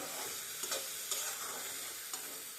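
Tomatoes cooking in oil are stirred in a pan, a steady sizzling hiss broken by a few soft scraping strokes of the spoon, close and moderately quiet.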